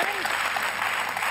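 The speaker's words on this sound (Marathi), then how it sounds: "ह्याच्याबद्दल जोरदार टाळ्या झाल्या पाहिजे" A television studio audience claps on a Marathi talk show, giving a dense, even patter of applause at close range that fills the short moment without talking.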